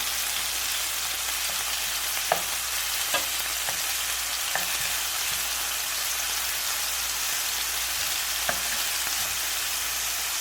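Meatballs frying in a pan give a steady, even sizzle, with a few soft clicks and scrapes as they are turned over.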